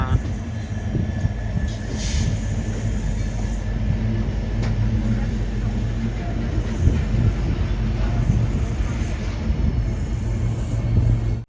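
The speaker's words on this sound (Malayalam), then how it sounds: "അംബാല സിറ്റി റെയിൽവേ സ്റ്റേഷനിലേക്ക് ഇതാ ട്രെയിൻ എത്തിയിരിക്കുകയാണ്" The Jhelum Express rolls into Ambala City railway station with a steady, close, low rumble of carriages running on the rails throughout.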